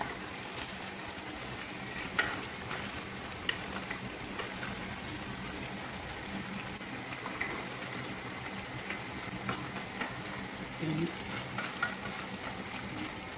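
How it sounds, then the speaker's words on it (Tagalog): Eggplant and vegetables frying in a pan with a steady soft sizzle, stirred now and then with faint scraping clicks, continuous and close, with no talk. "Halo-halo together para yung ating talong ay maluto na din."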